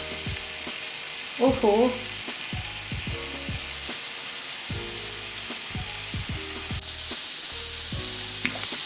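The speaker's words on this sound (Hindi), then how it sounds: "तो बस ये तवे पे आ गए हमारे कबाब। इनको सेकते हुए बस अब आप आंच तेज़ कर लीजिए तवे की" Chicken seekh kebabs sizzle on a hot tawa with a steady frying hiss, broken by repeated scraping and turning clicks. A woman gives a brief exclamation.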